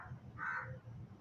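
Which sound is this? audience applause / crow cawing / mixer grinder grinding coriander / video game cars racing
crow cawing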